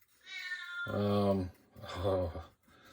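A house cat gives two drawn-out, fairly close meows, the first longer and rising, the second shorter after a brief pause.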